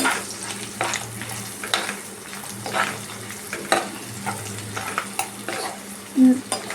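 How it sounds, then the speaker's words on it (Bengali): Kashmiri chili powder and spices are stirred gently in a frying pan, a soft steady sizzle with light scraping strokes; one brief bump near the end stands out, and no one speaks. "আস্তে করে হালকা হাত দিয়ে নাড়িয়ে নেবেন"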